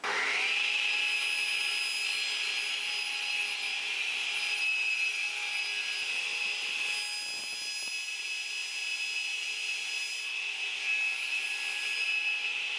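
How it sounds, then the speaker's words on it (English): A radial arm saw runs steadily while bevel-cutting wooden step stool legs at 10 degrees, a sustained high whining motor tone with a brief dip as the blade passes through the wood. "I'm going to cut the top and the bottom of the leg at 10 degrees"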